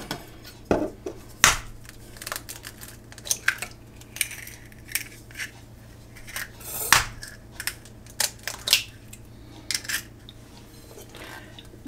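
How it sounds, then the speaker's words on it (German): Eggs cracked into a Frikadellen meatball mixture: a series of sharp taps and clicks of shell against a bowl, some louder strikes among lighter knocks, close up with no talking. "Weil als Bindemittel haben wir ja auch noch die Eier. Und die schlagen wir uns jetzt auf."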